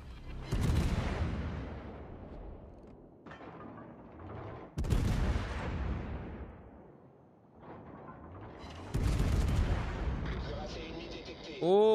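Warship main guns fire salvos in World of Warships, with three heavy booming blasts that ring out and decay, while someone talks between the shots.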